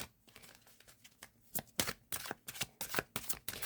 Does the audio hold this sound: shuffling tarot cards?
yes